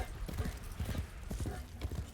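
Horse hooves clip-clop in a video game, a quick, steady run of close, fairly loud hoof beats that carry on through the whole stretch.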